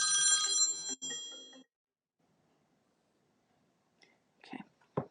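A mobile phone rings with a bright electronic ringtone for about a second and a half and then cuts off. After a stretch of near silence come a few soft clicks and handling noises.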